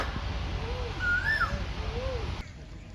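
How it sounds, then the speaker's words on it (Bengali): Rising and falling calls of an Asian koel repeat a few times over steady outdoor background noise from a garden by a road at Tajhat Zamindar Palace, moderately distant. "কোকিল ডাকছে রাস্তায়"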